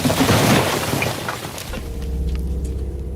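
A wall collapses in a heavy crash, a dense rumbling burst of breaking debris that fades into lower settling noise and a faint hum.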